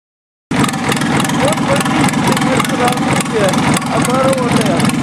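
QC385 diesel engine in a 385RD drive unit idling near 850 RPM, a loud steady close chug that cuts in abruptly, while someone talks over it.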